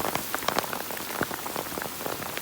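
Heavy rain pours steadily onto a farmyard, a dense, loud, continuous hiss broken by sharp nearby drops and splashes, with no voices.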